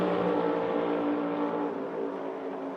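NASCAR Cup Series race cars roar around Darlington during practice, a loud, dense engine howl holding steady and fading slightly as the cars pass, with no voices.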